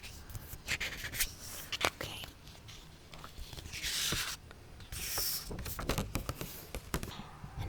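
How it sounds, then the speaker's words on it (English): Pages of an old book are turned one after another close up, giving soft papery rubs and crisp flicks in an uneven rhythm, with short swishing sweeps between quiet pauses. "So I'm just going to make some page flipping sounds with it."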